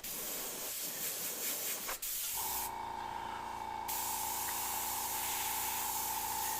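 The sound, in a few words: airbrush spraying paint on a saber tooth skull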